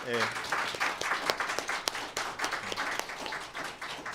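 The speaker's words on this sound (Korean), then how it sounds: "우리가 같이 한번 박수 한번 치면서 축복하고 잘 감당하시라고 우리 격려하겠습니다" A church congregation claps during a Sunday worship service, giving a short burst of applause with clear individual claps. A voice is heard briefly at the start, and the clapping fades over about four seconds.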